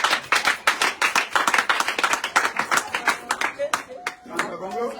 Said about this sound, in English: Now give a big hand of the applause for your bravo.